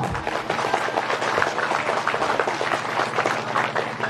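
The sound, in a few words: audience applause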